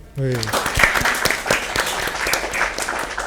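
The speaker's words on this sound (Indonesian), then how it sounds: "Tepuk tangan lagi." A room full of people claps steadily in warm applause for a few seconds, after a brief voice at the start.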